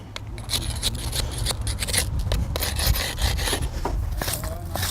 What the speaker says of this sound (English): scraping off any excess concrete